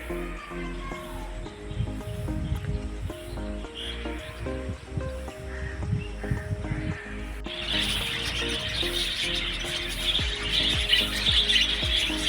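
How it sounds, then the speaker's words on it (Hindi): A Jain temple garden at Mohan Kheda is filled with many birds chirping and calling, a busy chorus of tweets layered over steady background noise that grows denser and brighter toward the end. "यहाँ काफ़ी सारे पक्षी हैं जिनका कोलाहल आपको सुनाई दे रहा होगा।"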